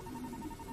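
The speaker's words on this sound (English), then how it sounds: "That's a phone." Phone ringing inside a video game, a steady electronic tone repeating in quick regular pulses over a low background hum, heard alone without talk.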